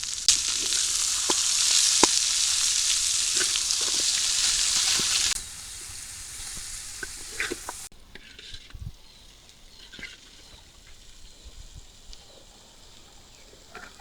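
Bitter gourd and potatoes hit hot oil with a loud, dense sizzle. It drops sharply after a few seconds, leaving a quieter crackle with occasional utensil taps.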